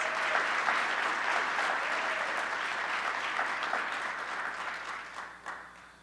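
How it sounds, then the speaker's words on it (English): Sustained applause from a large audience at a governor's award announcement, dense clapping that holds steady for several seconds and then gradually thins out. "Let's just give him another round of applause."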